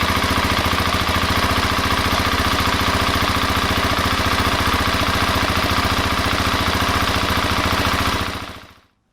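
An engine idles steadily with a factory plastic skid plate fitted underneath, a loud, even low-pitched rumble with rapid regular pulsing that holds constant before cutting off and fading out at the end.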